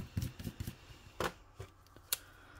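Paper banknotes being handled close up, a 5 euro note pulled out and swapped for a 10, giving soft crinkles and quick rustling flicks in an irregular rhythm; quiet, with no talking.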